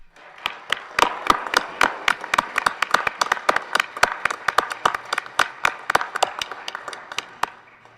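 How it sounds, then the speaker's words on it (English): A modest round of applause from members in the Colorado Senate chamber, with sharp, individually distinct hand claps in an uneven patter that swells and then thins out. "I wonder if we might welcome our guests with a round of applause"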